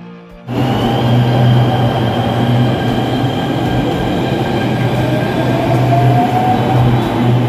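Delhi metro train at a station platform, a loud steady rumble with a high whine that starts abruptly after a brief quieter moment and holds throughout.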